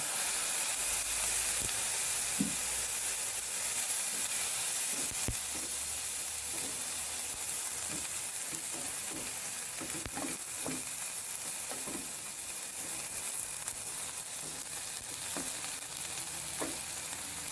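Squid pieces frying in a pan with ginger, giving a steady, dense sizzle and hiss throughout, broken by scattered clicks and scrapes of stirring.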